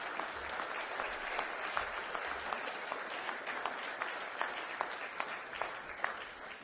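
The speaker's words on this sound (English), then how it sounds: "You can clap for that," Steady audience applause at a NATO Women, Peace and Security reception, moderately distant and even, with individual claps popping out of the continuous patter.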